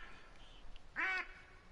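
A single loud duck quack from the hunting game The Hunter: Call of the Wild, rising briefly and cleanly above a low background hum with faint calls before it.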